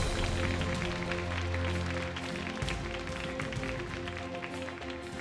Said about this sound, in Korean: 여러분 이 8명의 선수에게 다시 한번 큰 박수 부탁드리겠습니다.